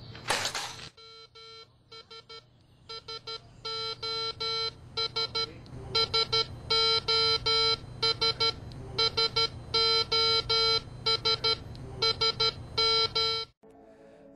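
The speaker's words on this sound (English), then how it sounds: "The alarm that you are seeing on the console was triggered by the man-down switch located on the personal safety monitor." A man-down alarm sounds on a Life·line personal safety monitoring console, a loud electronic tone pulsing in rapid uneven bursts of beeps that continue for over ten seconds before cutting off abruptly.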